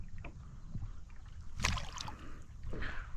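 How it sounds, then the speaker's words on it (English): A small boat is paddled along a rock wall while fishing for white perch, with soft paddle strokes and gentle water gurgles close by, no talk. "Paddled up to another rock wall here."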